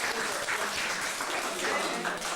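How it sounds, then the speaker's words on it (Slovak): Applause from an audience at a St. Nicholas stage show, a continuous dense crackle of many hands clapping, even in loudness and close throughout, with some voices mixed in. "Zatleskajte."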